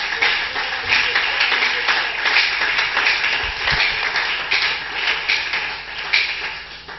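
A church congregation applauding, steady dense clapping from a crowd that holds for several seconds with scattered voices mixed in.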